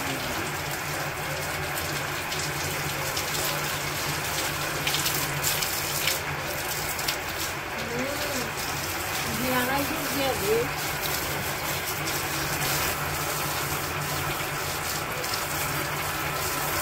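A motorbike gets washed with water and shampoo in a village, with water gushing and splashing steadily throughout at moderate volume while people talk nearby.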